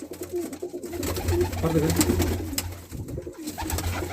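Soft, repeated coos from a Dobaz breeder pair of pigeons murmur low and close, with a brief spoken phrase in Hindi over the top.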